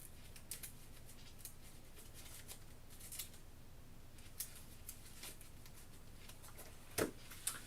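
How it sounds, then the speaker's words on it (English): Cards for the Kingdom Death: Monster board game are shuffled quietly at close range, soft riffling bursts and light taps scattered over a faint background hum. "Let's go ahead and shuffle here."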